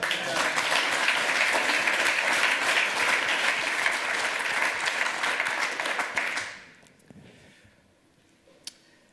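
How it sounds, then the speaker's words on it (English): A conference audience at a lightning talks session applauds loudly and steadily for about six seconds, then the clapping fades out abruptly, leaving near silence with a few faint stray sounds. "how about a round of applause both for that and for having to follow that?"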